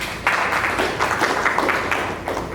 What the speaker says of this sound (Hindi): नहीं, बहुत हल्की तालियां रही मुझे लगा।